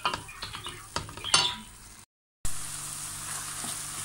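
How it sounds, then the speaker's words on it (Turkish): Chicken sizzles with tomato paste in a pan as it is sautéed for pasta, a steady close frying hiss broken by utensil scrapes and clinks against the pan, with a short gap before the sizzling resumes. "Bunu da bununla beraber kavurup salçanın kokusu biraz çıksın."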